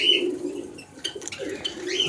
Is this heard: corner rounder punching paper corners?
no